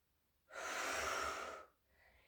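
A single long, loud breath during a Pilates workout, a broad airy rush lasting about a second, followed by a faint softer exhale.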